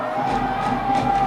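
Soccer crowd at a Detroit City FC away match in Chattanooga, a broad steady roar of voices that stays fairly loud through the whole short stretch with no single voice standing out.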